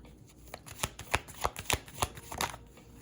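A tarot deck is shuffled and a card drawn, giving a rapid series of crisp card riffles and snaps that come close and fairly loud, alone without talk.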